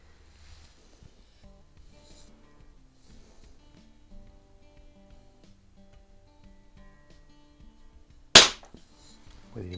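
A single sharp, loud crack from an Artemis LP400 single-stroke pneumatic .177 air pistol fired in a garage stands out after several seconds of quiet low background noise, with a brief ringing tail.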